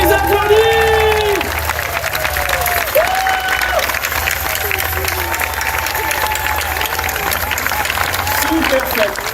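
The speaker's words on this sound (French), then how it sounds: "On les applaudit!" Applause from an outdoor audience at a cherry blossom festival show in La Forêt-Fouesnant, dense steady clapping with cheering and crowd babble running throughout, some voices over the top early on.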